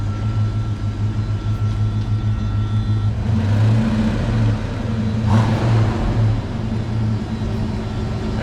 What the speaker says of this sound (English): Tell him how a stock exhaust sounds.